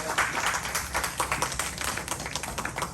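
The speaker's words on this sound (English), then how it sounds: "we would like to just give them a round of applause" A round of applause at a youth scholarship masquerade ball in Port Arthur, Texas, fairly faint, with steady scattered clapping from a modest crowd that continues throughout.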